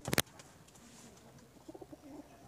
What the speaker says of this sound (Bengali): তো দেখুন উপরে কিছু পায়রা আছে